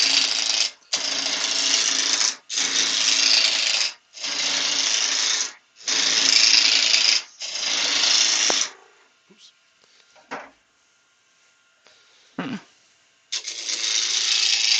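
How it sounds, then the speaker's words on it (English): Wood spinning on a lathe under a 3/4-inch roughing gouge, several loud sustained bursts of rough cutting with brief pauses between, then a quieter stretch with faint knocks before the cutting resumes. "So I'm roughing this off with a 3/4 rough and gouge."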